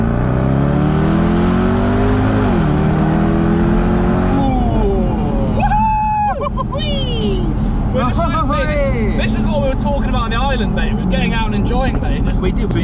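A car engine revs hard and accelerates through rising, sweeping gear pulls, loud and close from inside the car, with excited voices talking over it throughout.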